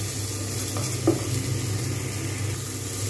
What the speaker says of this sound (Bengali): টমেটো, ডাল, লঙ্কা এগুলো কিন্তু বেশ ভালোভাবে মিক্স করে নিয়েছি।